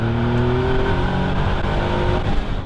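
Caterham 7 sports car engine droning steadily at high revs while being driven fast, a loud, continuous close-up roar with a faint rising pitch and no talk.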